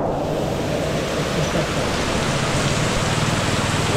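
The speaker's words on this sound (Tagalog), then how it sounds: "lakas sobra ng ulan" Heavy rain pours steadily and loudly with a dense, unbroken hiss of drops hitting surfaces, close by and with no voices over it.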